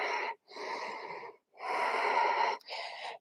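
Deep, slow yoga breaths move through the nose and throat in four long, steady inhales and exhales, close and clear, separated by short silent pauses.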